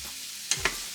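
Fried rice stirred with garlic and herb butter in a pot, giving a soft steady sizzle with two quick scraping strokes close by.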